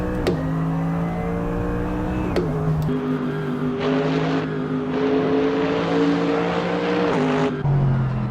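A racing video game car engine screams at high revs, its steady whine dropping sharply at each gear shift before climbing again, loud and close.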